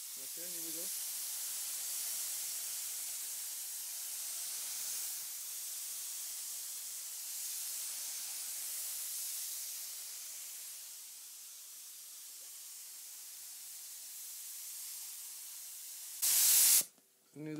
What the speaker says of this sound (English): I'm gonna spray a little bit off the panel first